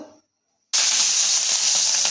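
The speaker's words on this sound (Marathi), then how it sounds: "आता आपण हरभऱ्याची भाजी फोडणी करत आहोत" Silence, then an abrupt loud hiss of tempering spices (cumin, chilli, asafoetida) hitting hot oil, a steady bright sizzle that continues without letting up.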